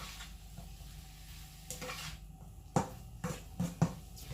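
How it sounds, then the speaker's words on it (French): Carrots and zucchini with spices stirred in a wok, quiet sizzling broken by several sharp utensil scrapes and clanks against the pan, irregular and close, no talk. "Je mélange, je mélange bien avec les épices."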